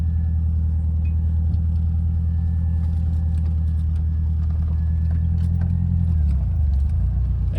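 A car drives along a rough main road, its engine a deep continuous rumble with low-pitched revving, steady and close throughout, shifting tone near the end, with no talk.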